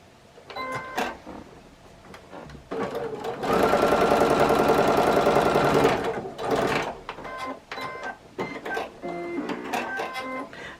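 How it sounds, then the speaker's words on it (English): A sewing machine stitches quilt block pieces in a loud, steady burst of rapid needle clatter lasting a few seconds, with shorter handling noises and brief machine starts around it. "I just simply put it on the machine and just simply sew it for the 1/4 inch"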